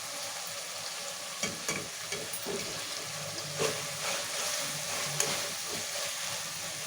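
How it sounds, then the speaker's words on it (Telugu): Tomatoes and fenugreek leaves cook in a pan for an aloo tomato curry, giving a steady, soft sizzle and bubbling with a few faint stirring clinks, with no talking. "ఇప్పుడు టమాటాలు ఉడుకుతున్నాయి కదా, ఇప్పుడు ఇందులో మెంతం కూర వేసుకుందాము."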